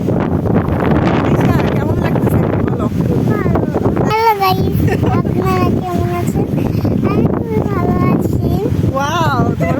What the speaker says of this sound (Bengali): মাঝে মাঝে এত পরিমাণ আসতেছে একটা করে বাতাস